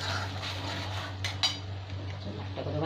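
Chicken pieces go into masala in a pan for butter chicken, giving a few close clinks and scrapes of utensil against cookware over a low steady hum.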